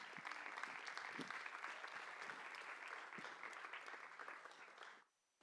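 A conference audience at a Portuguese panel gives strong, sustained applause for four panelists, dense clapping that holds steady then cuts off abruptly near the end.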